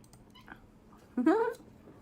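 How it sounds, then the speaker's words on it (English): A single short meow rises and falls near the end after a brief quiet stretch, fairly close but not loud. "you guys hear my cat?"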